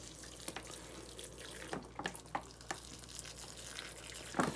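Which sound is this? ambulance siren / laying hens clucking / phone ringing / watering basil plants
watering basil plants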